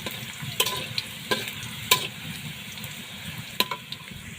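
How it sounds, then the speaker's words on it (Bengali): Whole dry red chillies fry in hot oil with garlic for a karamcha pickle, giving a steady close sizzle broken by several sharp taps of a stirring utensil against the pan, with no talking. "কয়েকটা আস্ত শুকনো মরিচ দিয়ে শুকনো মরিচগুলোকে একটু ভেজে নেবো"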